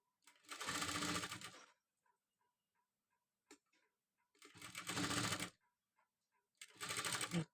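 Sewing machine running in three separate bursts of stitching as it sews piping onto fabric, each burst a steady whirring rattle lasting about a second or more, with quiet pauses between and no talking.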